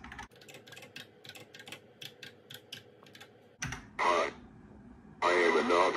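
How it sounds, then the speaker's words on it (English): Keys clatter in a quick, uneven run as a phrase is typed on a computer keyboard for a NABU speech synthesis program, followed by two louder bursts of a different, brighter sound. "So type in your phrase."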